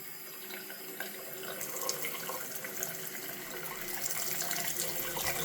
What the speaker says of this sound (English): I think he's just going around running the taps.